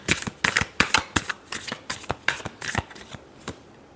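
Tarot cards are shuffled by hand in a quick series of crisp riffles and taps, about a dozen sharp bursts close up with no voice.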